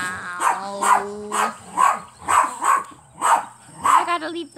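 A video game dog barks and growls in a rapid run of about eight loud, rhythmic barks spaced roughly half a second apart, with throaty growling between them.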